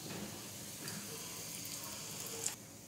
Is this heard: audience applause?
no